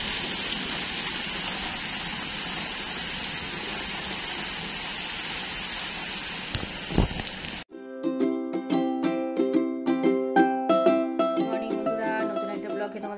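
Steady, even rain falls for about seven seconds in hot summer weather. It cuts abruptly to bright, plucked instrumental music.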